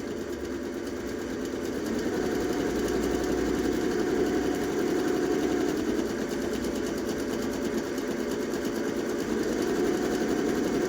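A sewing machine runs steadily while stitching a blouse lining, producing a continuous buzzing motor hum with rapid needle chatter and no pauses, heard close and alone.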